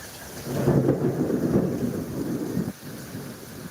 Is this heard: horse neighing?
no